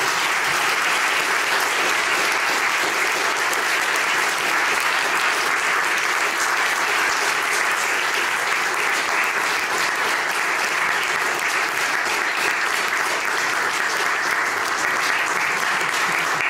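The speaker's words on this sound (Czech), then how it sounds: "to je hrozně milé, že mi tleskáte" Sustained, dense applause from a lecture audience at the close of a Czech popular-science talk on the periodic table, loud and steady throughout with no voices.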